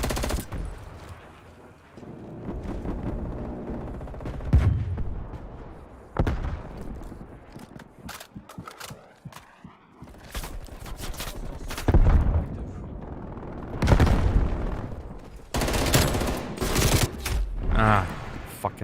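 Repeated bursts of automatic machine gun fire in a video game, loud clusters of rapid shots separated by pauses and quieter stretches, with a voice heard in places.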